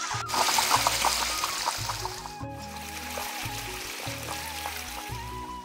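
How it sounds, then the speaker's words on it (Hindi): Water from a solar-powered pump splashes and trickles steadily into a farm field. The flow runs continuously under a recurring low rhythmic tone in the background, with no talk heard. "ये साइड में पंपिंग हो रहा है मतलब पानी आ रहा है सौर पैनल के माध्यम से"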